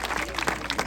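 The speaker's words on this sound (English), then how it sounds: "Could he have a big round of applause?" An audience at a safari park show claps briefly in a dense, close patter, with a voice speaking over the applause.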